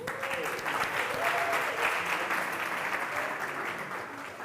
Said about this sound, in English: You can clap if you want to.